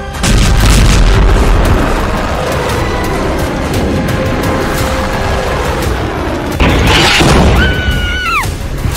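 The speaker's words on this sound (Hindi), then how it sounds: "इजराइल ने बेरूत में मिसाइलें दाग दी।" Missile strike explosions in Beirut, a dense, roaring blast-and-rumble wash filling the whole stretch, loud and sustained, with a fresh crashing burst near the end followed by a descending whistle-like tone.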